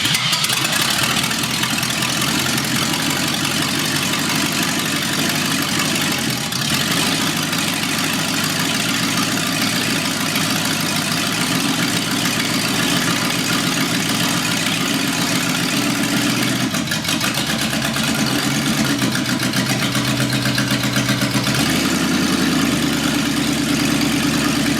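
A 1972 Ford 4x4 short-box truck engine running loud and close for the whole stretch, a continuous rumble with slight rises and dips in revs as the throttle is worked.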